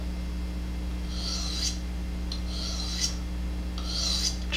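Knife blade drawn across a GATCO diamond sharpening hone, three separate rasping strokes about a second apart, close and fairly quiet over a steady low hum.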